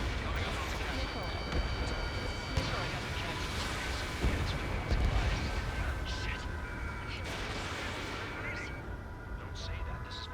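Missiles launch and detonate in Ace Combat 7 amid rumbling jet-combat noise, with dull booms and repeated bursts over a continuous roar, while a radio voice and warning tones sound throughout.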